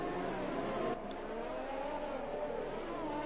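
Formula 1 cars racing in the Monaco Grand Prix in a video game, a steady loud engine whine that dips briefly and continues with shifting pitch, close up and alone.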